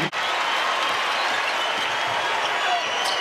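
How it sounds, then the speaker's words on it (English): An arena crowd at a Siena vs Louisville college basketball game roars with sustained cheering and applause, loud and continuous, with a commentator's voice partly under the noise. "this crowd is getting juiced up"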